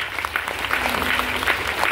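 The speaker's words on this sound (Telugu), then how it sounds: "ఒక్కసారి ఎంఎస్ఆర్కి అసలు గట్టిగా పైకి చేతులు ఏమి క్లాస్ కొట్టాలి." Audience applause at a Vestige business seminar in Telugu, a steady dense wash of many hands clapping loudly throughout, with no speech over it.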